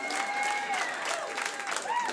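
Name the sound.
comedy audience applause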